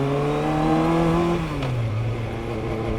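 A 1988 Yamaha FZR1000 motorcycle with a five-valve-per-cylinder engine revs with a loud, close, steady drone, then the pitch sags as the revs fall back. No talking.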